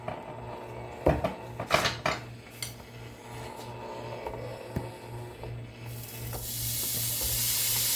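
Ground beef dropped into a hot Power XL StirMax multi cooker on low stir, sharp clanks of utensils and container followed by a rising steady sizzle.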